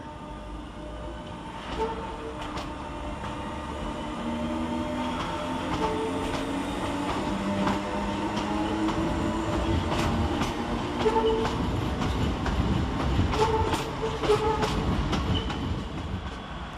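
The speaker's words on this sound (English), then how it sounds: "Another freight train coming our way" A freight train rumbles past at moderate distance through Manchester Oxford Road railway station, its wheels clacking rhythmically over the rails as the heavy, steady roar builds and lingers.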